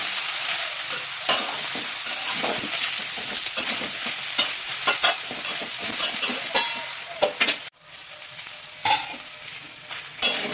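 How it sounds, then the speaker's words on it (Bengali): Cauliflower stirred and fried in a pan, a continuous close sizzle with repeated scraping and clattering strokes of a spoon, a brief drop in sound near the end before the sizzling resumes, no voices. "একবার নাড়ি করে দিচ্ছি, একটু কপিটা কষা হবে।"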